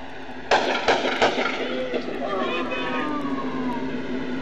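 Gunfire in a police shootout, several sharp shots in quick succession followed by fading echoes and a tonal wail, with officers shouting over it.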